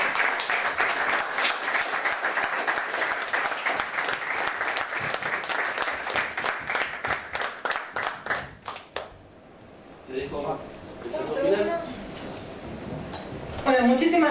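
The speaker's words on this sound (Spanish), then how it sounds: "Pido de vuelta un aplauso para los chicos que organizaron este evento." Audience applauds event organizers at a gathering, a full round of clapping that thins into scattered individual claps before fading, then a person speaks.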